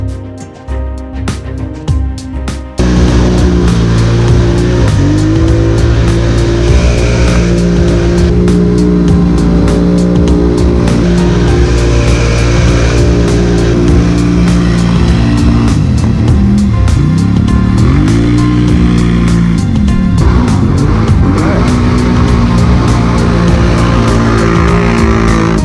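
A Yoshimura-exhausted ATV roars loud and close, its engine note climbing and falling through steady revving for a long stretch, preceded by a brief rougher start.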